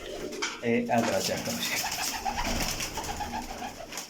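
Pigeons coo close by, soft, throaty, repeated calls, partly under a voice speaking briefly.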